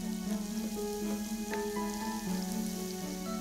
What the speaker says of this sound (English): Fry them off in 50 grams of butter until they're nice and soft.